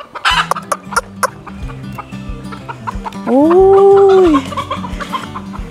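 Farm chickens cluck close by in steady, busy bursts near a rice field, with one long drawn-out call in the middle and a brief shout from a person.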